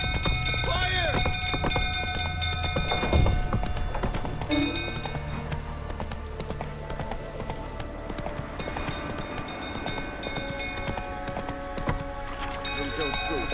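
Roach the horse runs in The Witcher 3 as a castle and its stables burn, with rhythmic hoofbeats clip-clopping under loud game voices, shouting and music, along with a brief whinny.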